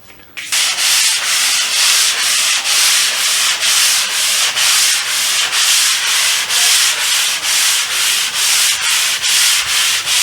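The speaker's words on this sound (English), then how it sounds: "For right now, I'm just going to use a sponge sander." A sponge sander with medium and fine sides is rubbed across a freshly skimcoated textured wall in loud, steady back-and-forth strokes, close up and continuous with a regular rhythm.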